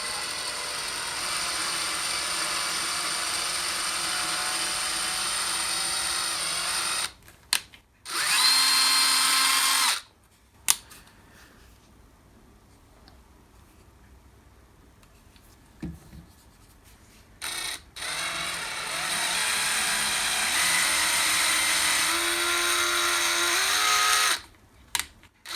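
Drill press boring into metal bracket stock during a shop upgrade, sustained high whine in several long bursts of roughly three to seven seconds, loud and close, separated by quiet pauses with faint handling noise.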